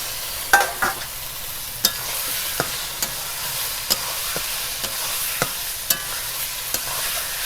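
Washed chicken goes into a spiced masala that has been cooked until the oil separates. A steady loud sizzle of frying runs under regular sharp scrapes of a stirring spoon against the pan, with no voices.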